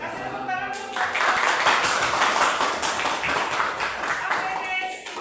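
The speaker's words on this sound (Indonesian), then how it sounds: "Kasih tepuk tangan." Students applauding in a high school classroom after a group presentation, a busy, steady clatter of hand claps that starts abruptly and continues at even strength, with some voices faintly underneath.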